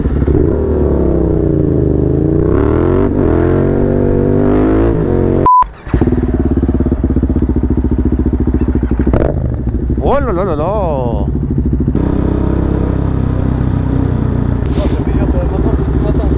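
A motorcycle engine (MT) revs hard during a wheelie lifted in third gear, a loud, close, continuous drone that rises and falls in pitch with one brief dropout, and a rider speaks over it.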